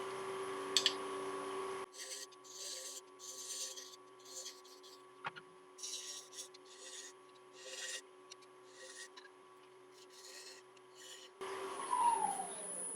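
Quarter-inch parting tool cutting into a cherry bowl spinning on a wood lathe, producing intermittent scraping and rasping against a steady motor hum, close, with louder bursts at start and end.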